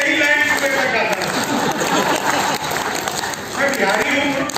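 An audience at a Hindi kavi sammelan (poetry gathering) in Patna claps together. A burst of mixed clapping and crowd noise fills the middle, with a voice speaking over it at the start and again at the end.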